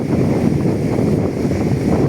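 Roaring typhoon Pepito wind and crashing waves at Dinahican, Infanta, Quezon under Signal No. 4, a loud, dense low rumble of gusts and surf buffeting the microphone without pause.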